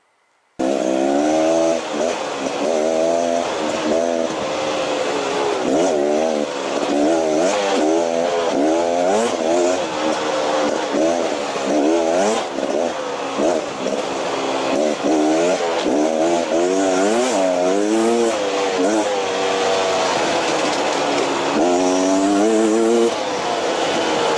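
A 2018 Beta Xtrainer 300 dirt bike is ridden with its engine close and loud throughout, the two-stroke note rising and falling in repeated throttle sweeps as the rider shifts and accelerates.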